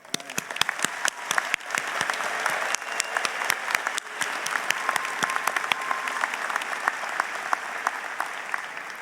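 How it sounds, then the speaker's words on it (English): Sustained applause from a large audience at a Durham College Class of 2021 graduation ceremony, steady dense clapping with sharp individual claps standing out, continuing throughout without speech. "let's take a moment to acknowledge our grads with a round of applause"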